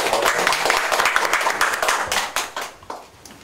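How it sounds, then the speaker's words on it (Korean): A seminar audience claps in a dense burst of many hands, fading out over a few seconds. "박수로 시작합니다."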